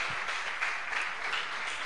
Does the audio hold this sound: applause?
yes